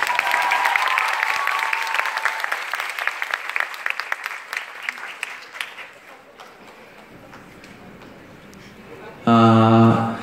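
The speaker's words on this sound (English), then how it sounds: "Can everyone give a round of applause for the K-pop contestants?" A concert audience at a live K-pop show in Romania applauds the contestants, with sustained clapping and some crowd noise that gradually fades, followed by a short loud tonal burst at the end.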